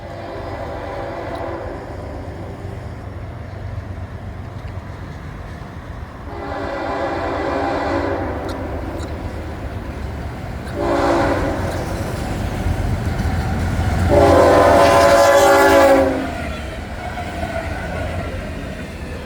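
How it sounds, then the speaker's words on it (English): A Florida East Coast Railway freight rock train with extra locomotives rumbles steadily past while its horn sounds several times, long blasts swelling louder as it approaches, with rolling rail noise underneath throughout. "Rock train. See the extra locomotives too."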